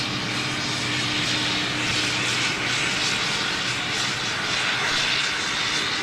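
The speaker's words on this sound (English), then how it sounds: "That was a Globemaster over the top of us" A Boeing C-17 Globemaster jet flies low overhead, its engine roar loud and sustained with a broad rushing whine throughout.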